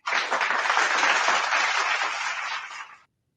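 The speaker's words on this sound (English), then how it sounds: "Give me some claps or something." A dense burst of applause and hand clapping, steady and fairly loud for about three seconds, then stopping abruptly into silence.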